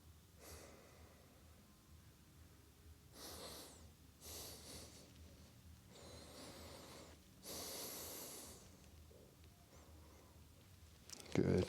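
Slow, deep breaths during a yoga splits stretch, several long airy inhales and exhales rising and fading at close range in a quiet room, ending with a brief louder rustle.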